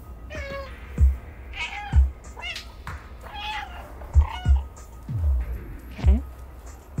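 Cat meows from the video game Stray, several short mewing calls spread across the scene with soft footsteps or thumps and game ambience between them, fairly close and clear.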